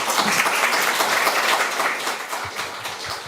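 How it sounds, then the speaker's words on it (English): Audience applause after a literary conversation event, a steady wash of many hands clapping at moderate loudness, thinning slightly toward the end with a few sharper individual claps. "Another applause."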